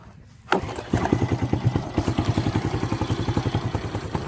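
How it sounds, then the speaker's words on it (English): A 1986 Honda Fourtrax 200SX ATV engine catches on one pull after a thump and settles into a rapid, steady putter as it idles close by. "I'll show you idling real quick. Turn it on, put a little bit of gas to it."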